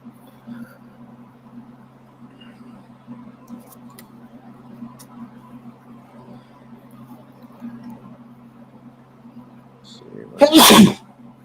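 A single loud sneeze bursts out near the end, following a long stretch of quiet indoor room tone with faint background murmur and low hum.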